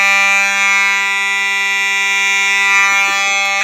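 A fire alarm horn, once pulled from a working system as a bad unit, blares a loud steady buzzing tone without a break during a test.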